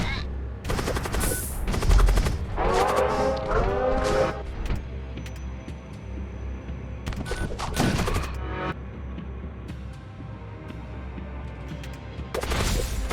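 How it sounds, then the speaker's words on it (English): Bolt cannons fire in the space battle game Void War, with rapid clusters of sharp, loud blasts that come in repeated bursts and pause between volleys over a dense, noisy battle background. "It's a lot of bolt cannons."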